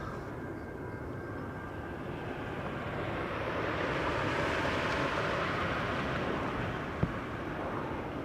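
A KLM jet bound for Venice takes off from Schiphol's Polderbaan runway, a broad steady engine roar that swells gently toward the middle and holds, heard alone without talk.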